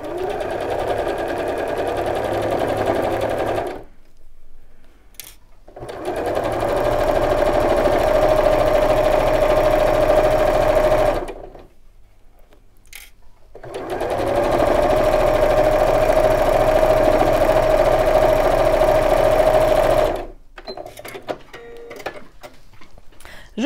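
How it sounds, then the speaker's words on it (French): A sewing machine stitching a patchwork block seam, running in three long steady bursts of rapid, even mechanical whirring up close, separated by short quiet pauses, with a few light clicks at the end. "c'est mon avant-dernière couture, je me positionne bien"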